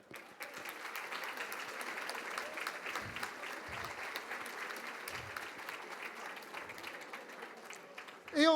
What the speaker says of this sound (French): on peut aussi vous applaudir